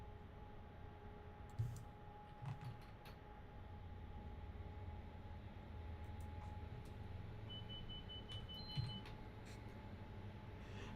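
A train simulator's TSC alarm set off by the guard buzzer, a faint steady electronic tone late in the clip over a constant cab rumble with scattered clicks.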